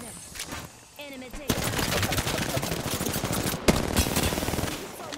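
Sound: gunfire in a video game shootout

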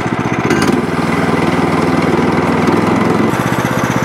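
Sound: sawmill motor running and idling

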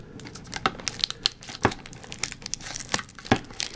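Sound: plastic wrap being torn off a Pokemon card tin

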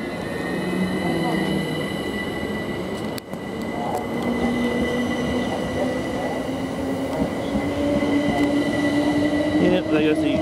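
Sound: Southern class train departing East Croydon station

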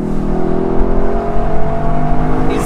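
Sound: naturally aspirated car engine revving

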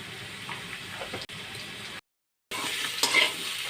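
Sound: koi fish frying in oil as ground spices are added

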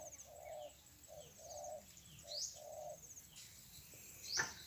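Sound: spotted dove decoy cooing

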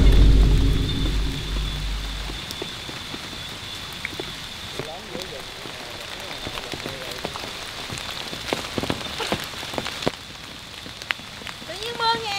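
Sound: rain falling in a video game

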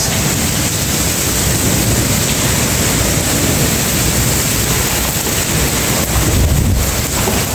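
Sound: heavy rain

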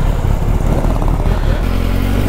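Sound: KTM Duke 390 motorcycle pulling away

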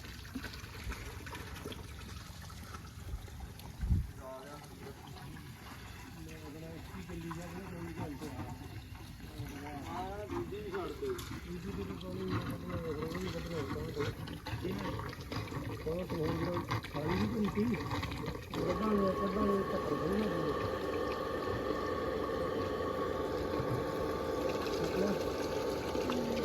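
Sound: water pump motor running, water flowing

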